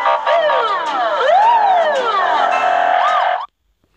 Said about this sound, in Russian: Также мы можем включить сирену.